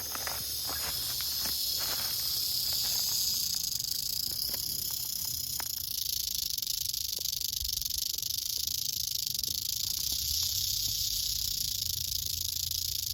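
A rattlesnake's steady, high buzzing rattle goes on continuously throughout, close and fairly loud, with a few faint scuffing sounds underneath.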